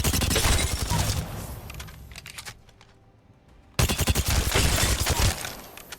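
Rapid bursts of Volt submachine gunfire in Apex Legends, two dense sustained volleys separated by a short lull, loud and close.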